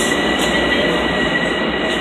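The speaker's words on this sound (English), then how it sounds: "There's a train here." A train rolls through a large rail yard with a steady, dense rumble and faint wheel squeal, continuous and fairly near, with no talking.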